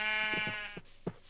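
A Minecraft sheep bleating in a long wavering baa, followed by a couple of short mutters from the players, fairly close and moderately loud.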